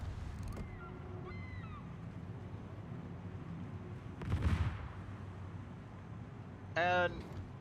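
A ship's guns fire in the World of Warships game during Operation Hermes, with one heavy, booming salvo standing out over a steady rumbling background and a brief, sharp mechanical burst following shortly after.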